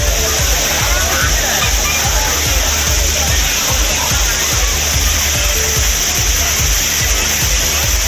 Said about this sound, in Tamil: குற்றாலம் மெயின் அருவி, ஐந்தருவி, புலியருவி, சிற்றருவி என அனைத்து அருவிகளிலும் தண்ணீர் ஆர்ப்பரித்து கொட்டியது.